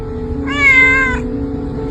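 A kitten gives one clear, close meow of under a second against a low background hum.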